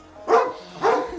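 A dog barks twice, two loud, close woofs about half a second apart with no talk over them.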